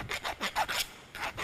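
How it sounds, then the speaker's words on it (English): Hand file rasping a burr off a metal workpiece in a fitting and turning workshop, five or six quick back-and-forth strokes, close and fairly quiet, with no voices. "So I'm just going to use a file. Just remove that burr sticking out there."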